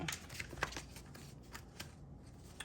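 Cards riffled and shuffled in several quick bursts, soft papery flutters close by, no talking.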